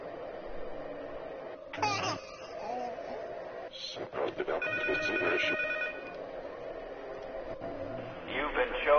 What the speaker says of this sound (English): now we just have to wait for the vibrations to end. That should be the third, and then the phone call